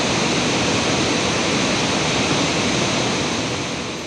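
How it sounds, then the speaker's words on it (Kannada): Unchalli Falls in the Western Ghats thunders as a dense, continuous roar of falling water, loud and unbroken throughout, with no voices. "ಸೊ ಈ ಉಂಚಳಿ ಜಲಪಾತ ಏನಿದೆ ಅಲ್ವಾ, ಇದು ಬಹಳ ಒಂದು ಅದ್ಭುತವಾಗಿರ್ತದೆ"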